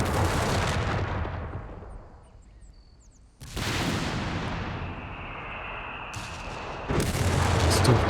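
Mortar auto-fire in the video game Company of Heroes 3, with loud booming shots and crackling blasts in bursts, a quieter lull in the middle, then renewed heavy fire rising toward the end.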